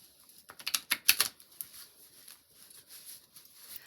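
Quick papery riffling and tapping, a close burst of oracle cards being shuffled that rises and then settles into lighter scattered patter.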